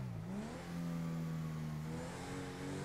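Car engine in GTA V revs and climbs in pitch, then holds a steady mid-range drone, loud and close from start to finish with no one talking.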